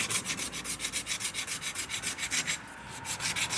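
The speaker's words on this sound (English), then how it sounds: "Hub surface has got a little bit of corrosion on it, so I might just give that a bit of a sand so the disc sits flat." Rhythmic back-and-forth sanding of a corroded rear brake hub surface on a SAAB 9-3, a steady close scraping rub repeating several times per second without talk.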